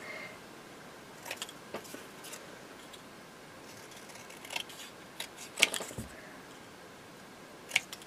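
Paper is snipped with scissors around a Merry Christmas card sentiment, producing faint, scattered cuts over a soft background hiss. No voices are heard.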